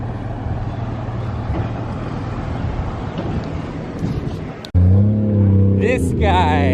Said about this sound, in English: Cars all over the place out here